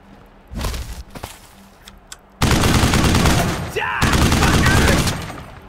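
Gunfire in the Wasteland 3 video game: a few sharp isolated shots followed by a sustained loud burst of rapid automatic fire, with someone speaking quietly in between.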